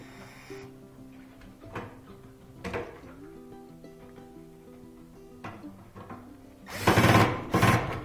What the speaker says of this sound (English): Now we'll add those 2 screws back. Tighten up those screws.